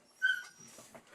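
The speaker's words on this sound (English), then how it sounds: "Sorry, that's my dog." A pet dog whimpers indoors with a high, thin whine that rises and then breaks into a few softer yelps. The sound is brief and near the microphone.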